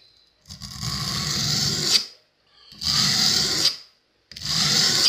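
A two-blade hunting broadhead is drawn across a sharpener in three long rasping strokes, each a steady scraping rub separated by brief silences, close and loud with no talk.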